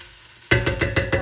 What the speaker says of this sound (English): I throw back in the onions and the garlic. So I'm gonna let that saute up.